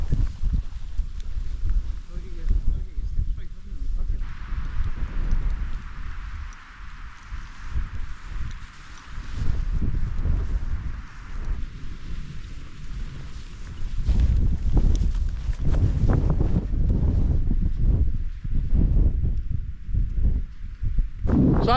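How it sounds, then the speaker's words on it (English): Strong gusting wind on an exposed hilltop campsite with trekking-pole tents, loud buffeting rumble against the microphone that surges and eases, with a voice talking briefly beneath it. "So as you can tell, it's very windy."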